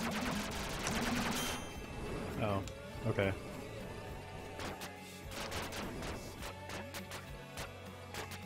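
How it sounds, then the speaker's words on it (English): Rounds cooking off in a fire in a video game: a rapid crackling burst of pops, then scattered sharp cracks and bangs at irregular intervals, with voices talking throughout. "guns on fire can cook off rounds"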